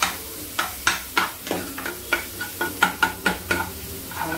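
Onion stir-fried in a pan for veg Manchurian: a close sizzle broken by a steady run of about a dozen sharp scraping knocks as the spatula tosses the pieces.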